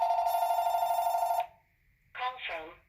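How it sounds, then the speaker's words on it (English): A phone rings loudly with a steady pulsing electronic tone for over a second, then stops, and a person begins talking shortly after. "My phone is ringing."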